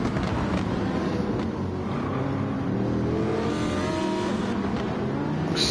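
Race cars, a Lamborghini among them, roar in a racing video game at Interlagos, engines droning loudly and continuously as the pack runs bumper to bumper, with no talk.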